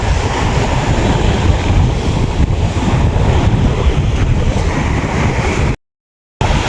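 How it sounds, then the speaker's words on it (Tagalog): Loud, continuous roar of heavy sea surf with strong wind buffeting the microphone, waves crashing steadily and close on a shore, briefly cutting out near the end. "grabe po lakas po ng alon"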